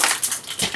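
Mustard seeds crackling and popping in hot oil during tempering for a spinach dish, a close burst of crisp, irregular crackles with no talk.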